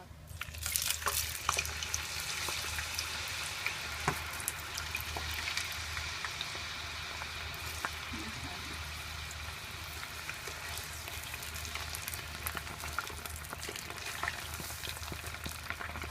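Potato strips deep-frying in hot oil for French fries, a dense, continuous bubbling sizzle held steady and fairly soft throughout, with small crackles scattered over it.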